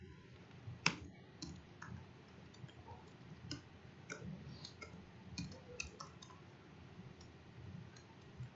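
Computer keyboard being typed on, a faint scattered stream of light clicks and taps over a low background hum, with no talking.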